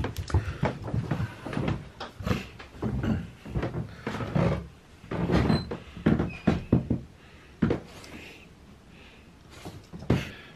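A house door is opened during the gales of Storm Eunice in the UK, giving a string of irregular knocks, clunks and rattles close by, spread across several seconds, with quiet gaps between.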